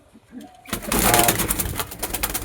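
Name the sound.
pigeon cooing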